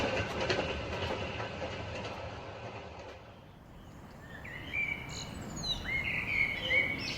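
A running train with rumbling, clattering noise for the first half, then quieter rolling with high whistle-like squeals and chirps in the latter part, set in a Bengali horror audio story about changing trains at New Jalpaiguri.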